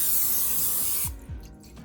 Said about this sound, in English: Then spray my 9x13 pan.